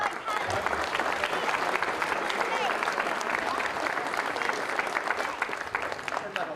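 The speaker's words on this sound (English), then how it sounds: "just like to give us a round of applause as well" A crowd at a football cup final applauds steadily throughout, a dense wash of clapping at even volume with a voice faintly underneath.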